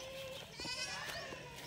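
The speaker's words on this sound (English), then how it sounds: "Look at the two goat," Goats bleat on a Philippine farm where a house is being built: wavering, nasal cries overlap briefly and sound fairly close, over faint background noise.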